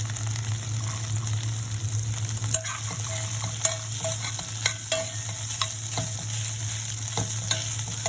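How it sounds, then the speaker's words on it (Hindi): Green chilli and peas stirred in a hot pan: a steady sizzle with repeated scraping and clinking strokes of a spoon at irregular intervals, close and continuous beneath a low hum. "इस तरह से अच्छी तरह से मिक्स करके"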